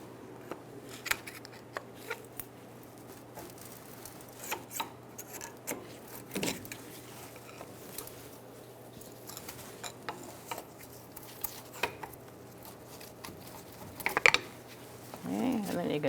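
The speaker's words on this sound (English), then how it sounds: "Now you can take a pry bar and just pry up the caliper." A pry bar levering up the front brake caliper on a 2007–2012 Nissan Altima, heard as scattered metallic clicks and scrapes with a sharper clank near the end, close and moderately loud over a faint steady hum.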